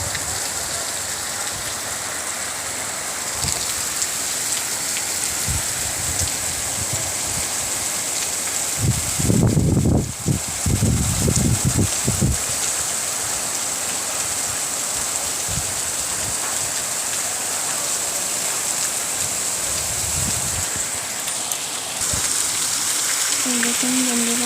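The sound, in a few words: heavy rain falling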